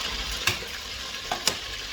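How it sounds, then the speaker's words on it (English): Beef pieces fry in a pan for Nigerian beef stew, a steady close sizzle with a couple of brief stirring scrapes and no voices. "I don't want it to be too fried"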